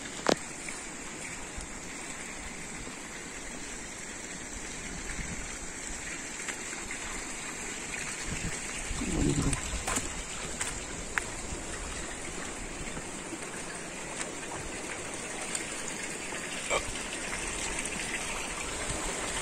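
Water gushing into a sedimentation tank at a rural water treatment plant, a steady broad rushing wash that runs continuously throughout, with occasional splashes and knocks on top.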